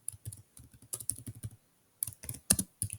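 Fingers tap out an IP address on a computer keyboard in quick clustered keystrokes, close and clear, with short pauses between bursts and no talking.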